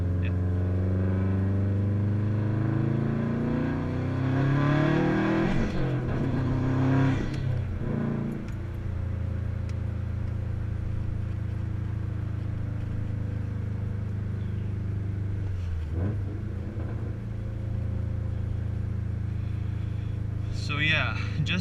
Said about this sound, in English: I'll go ahead and shut up and let everything else do the talking